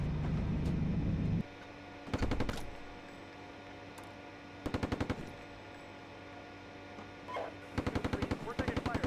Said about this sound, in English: We're taking fire here.